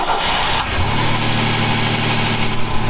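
A car engine with its intake broken off the top and the mass airflow sensor misreading, running steadily up close with a continuous rough, loud drone.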